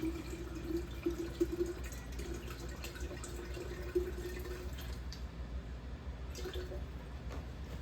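Steady water running into a container, a continuous gentle splashing stream with a low hum behind it.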